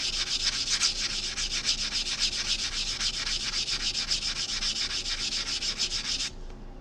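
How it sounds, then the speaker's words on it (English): Continuous rapid scratchy rubbing of sandpaper against the cut metal edge of a coin ring made from a quarter, a steady back-and-forth rasp that stops abruptly near the end. "right now I'm just sanding this cut edge, getting it nice and shiny"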